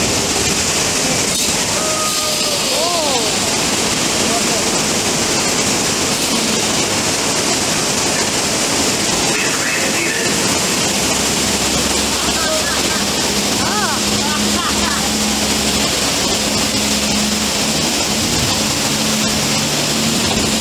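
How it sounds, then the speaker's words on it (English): Gushing water from a broken water main on a Universal Studios attraction, a loud, constant rushing roar with faint tonal hums and scattered background noise throughout. "I think the water main just broke."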